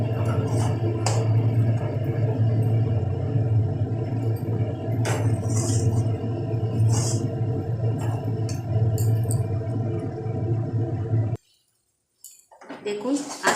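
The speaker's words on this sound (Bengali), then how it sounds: "এর মধ্যে গ্যাসের স্টিমটা কম রেখে খুব ভালোভাবে মিশ্রণটাকে মিশিয়ে নিতে হবে, যাতে জলটা পুরো টেনে যায়" Chana dal mixture being stirred in a kadai over a low gas flame, with light metallic clinks and scraping over a steady hiss that cuts out near the end before a few faint sounds resume.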